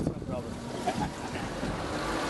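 Ocean waves wash and churn around a glass-bottom tour boat off Cabo San Lucas, a broad steady rush with wind buffeting the microphone and brief talk from passengers.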